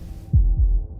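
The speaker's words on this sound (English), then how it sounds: "That was the sound of a heartbeat." Two deep, close heartbeat thuds sound one after the other in the video game Slay the Princess, over a low hum after a brief silence.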